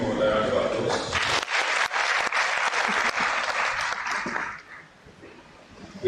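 A lecture audience breaks into steady, loud applause that carries for several seconds before tapering off into quiet room noise.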